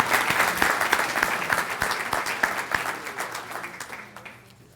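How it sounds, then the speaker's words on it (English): Audience at a Hall of Fame induction ceremony clapping, a sustained round of applause from a crowd that fades away toward the end. "if we could give them all a round of applause"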